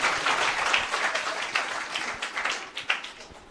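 A church audience claps warmly at the consecration festival of a new Velankanni Mata church in Veeraghattam, a dense burst of applause that rises and falls.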